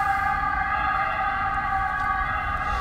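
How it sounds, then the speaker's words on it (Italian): An ambulance siren wails steadily and loudly throughout, a sustained emergency-vehicle tone with no talk over it. "Ambulanza!"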